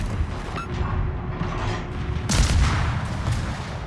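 Naval guns in World of Warships fire a heavy, booming salvo midway through, standing out over continuous low rumbling battle ambience.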